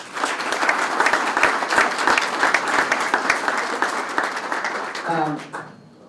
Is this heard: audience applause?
yes